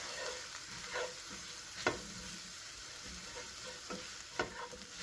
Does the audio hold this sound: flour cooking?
yes